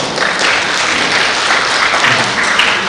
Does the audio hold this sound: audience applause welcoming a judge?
yes